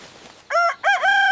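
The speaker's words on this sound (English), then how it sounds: "the rooster sitting in the house started crowing very loudly" A rooster crows loudly and close by in a domestic setting, two bright harmonic bursts with a short gap between them, the second one drawn out and sustained, rising from a quiet background.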